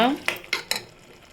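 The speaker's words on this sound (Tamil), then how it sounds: "புதினாவை சேர்த்து நல்லா வதக்கிக்கோங்க" Mint leaves being sautéed in a pan while making dried fish biryani give three sharp clinks and scrapes of a spoon against the pan, close and fairly loud, over a faint sizzle, with no voices.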